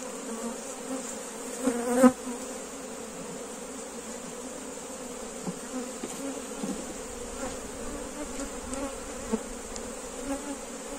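Steady, dense buzzing of honey bees at a hive, continuous and fairly close throughout, with a brief louder swell early on as a bee passes near.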